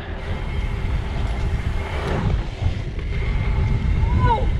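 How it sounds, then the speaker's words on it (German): Wind buffets the microphone outdoors at MTB dirt jump trails in Hungen, a steady low rumble that lasts the whole stretch with no clear pauses. "Boah, echt windig."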